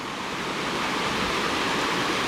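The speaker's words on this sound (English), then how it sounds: "Look, it's over top of this waterfall. I gotta walk over that waterfall." Waterfall at Blue Knob State Park, a steady broadband rush of falling water that fills the whole clip at close range, loud and unbroken, with no voices.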